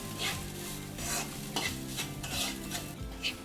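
Egg rice with pepper stirred in a pan: brisk repeated scraping strokes over a frying sizzle, close and fairly loud, with music playing underneath.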